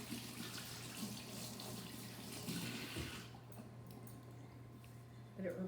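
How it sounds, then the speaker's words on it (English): Tap water running over hands being rinsed of sugar at a kitchen sink, a steady rushing flow with a low hum beneath, easing in the last seconds, with a soft voice faintly under it. "I have to rinse my hands because they're full of sugar."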